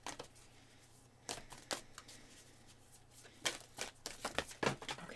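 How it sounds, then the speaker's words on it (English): Tarot cards are shuffled in several quick, crisp riffling bursts separated by brief pauses, close and fairly quiet, with the flutter growing busier toward the end. "these ones are always so hard for me to shuffle"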